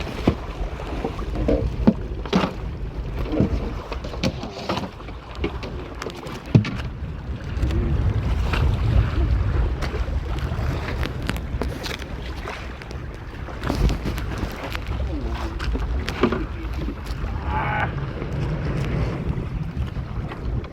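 Steady wind roars across the microphone aboard a fishing boat at sea, with water wash underneath and occasional gusts throughout, without any speech.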